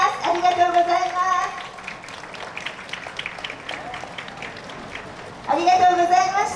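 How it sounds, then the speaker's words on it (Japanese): An audience applauds at the opening of the Urawa Yosakoi festival in Minami-Urawa after a taiko drum performance. A few seconds of steady clapping sit between stretches of an announcer talking. "皆様もう一度盛大な拍手をお願いいたします"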